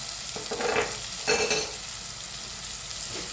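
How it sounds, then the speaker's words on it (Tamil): Onions fry in a pan with salt and turmeric, giving a steady close sizzle broken by a few louder bursts as the mixture is stirred. "வெங்காயம் வந்து நல்லா வதங்கணும்"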